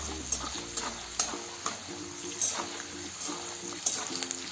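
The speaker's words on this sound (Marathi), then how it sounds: "हे भाजलेले आहेत शेंगदाणे छानपैकी आता फ्राय झालेले आहेत" Peanuts roast in a pan for upma, heard as quiet, rhythmic scraping strokes of stirring with a faint sizzle and small clicks of nuts shifting, repeating at a steady pace.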